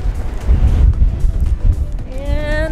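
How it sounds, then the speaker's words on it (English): Strong coastal wind blowing near a lighthouse by the beaches and dunes of Port Elizabeth, South Africa, a loud buffeting rush hitting the microphone continuously, with a voice briefly heard toward the end. "Wow, it's windy."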